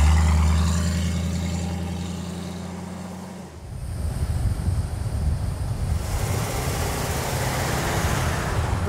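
A 1968 Shelby GT500-KR Mustang with a 428 Cobra Jet V8 idles with a smooth, low rumble, then gives way to a broad whooshing rush, like the car moving off or wind, that stays steady to the end.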